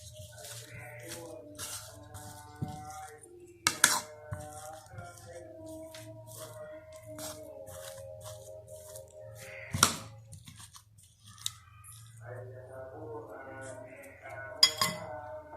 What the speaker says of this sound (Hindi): अच्छी तरह इसे मिक्स करते हैं चम्मच से